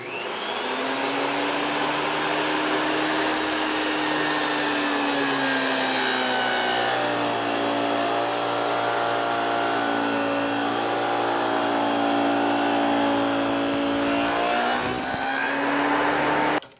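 A power tool cuts a groove in wood for a custom-built door, a loud, steady motor whine that holds a continuous tone throughout, then winds down at the end.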